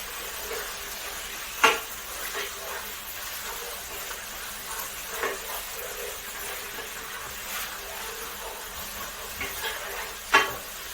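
Vegetables are stirred in tomato sauce in a pan while making paella. A soft sizzle runs under occasional scraping strokes of a spoon, with a few sharper clinks against the pan.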